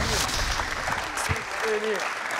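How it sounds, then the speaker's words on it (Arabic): Studio audience applause on a Tunisian television quiz show, a continuous bed of clapping heard at moderate level with brief voices rising over it. "تصفيق على بالحسن"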